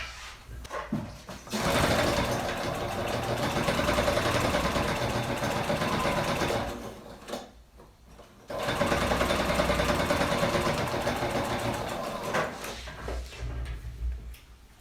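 A sewing machine stitches lining and outer fabric pieces of a small cottonwood pouch together, running in two long, steady, loud mechanical bursts split by a brief pause, close up with no talking.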